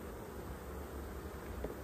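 Honey bees buzz at an open hive during a frame inspection, a soft, steady, diffuse hum with no talking.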